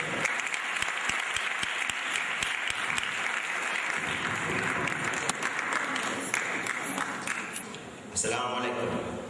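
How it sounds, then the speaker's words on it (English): A crowd applauding at a graduation, dense clapping that swells and carries on steadily, with a brief shift near the end. "Clap yourselves for a second."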